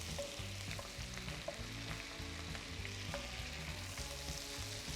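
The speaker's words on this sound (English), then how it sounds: "While the butter starts melting away, add in some chili flakes" Salted butter melts in a pan with chili flakes and chili powder, giving a soft, steady sizzle and crackle close by, with no talk over it.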